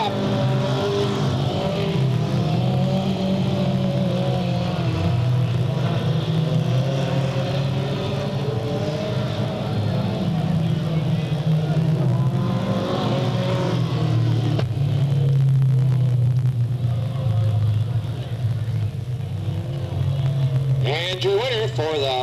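Race cars roar around the oval at Delta Speedway on the final lap, a sustained loud engine drone that swells and fades as the pack passes, with no talk.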